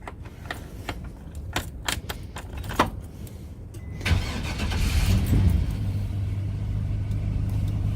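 A converted school bus engine cranks over after refuelling and catches, settling into a steady low rumbling idle with a slight rise as it is revved, preceded by a few scattered clicks and knocks.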